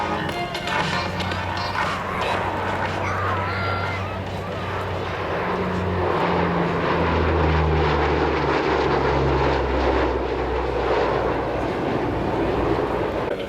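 A fixed-wing aircraft with a propeller engine makes a pass at the 2009 Australian International Air Show, giving a steady, loud, soft but guttural drone that holds and swells for the full length, with a commentator talking over it.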